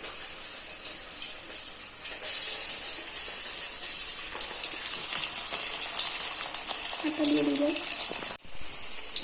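Stuffed teasel gourd (kakrol) fries in hot oil, a steady crackling sizzle running throughout, with a short soft voice near the end.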